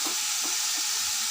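Garlic and onion browning in oil in a pan for beef karahi, giving a steady, dense sizzle and hiss with faint soft stirring underneath, close and continuous through a brief moment.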